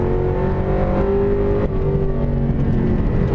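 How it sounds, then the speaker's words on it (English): A 2004 Ford Mustang Mach 1 V8 runs loud and close with a deep, continuous rumbling drone, revving slightly while driven through a tight turn. "it burbles a little when it comes down off compression"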